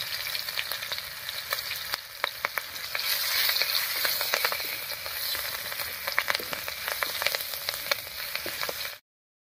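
Slit green chillies and crushed garlic fry in hot oil, a close, crackling sizzle with frequent sharp pops and spatters over a steady hiss, ending abruptly.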